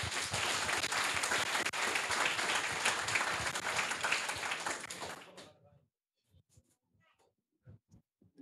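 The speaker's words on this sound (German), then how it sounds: "Ein Applaus für die Gruppe." A room of people at a youth hackathon final presentation in Cologne applauds a group for about five seconds, dense and steady, then the clapping fades out and a few quiet voices and small noises follow.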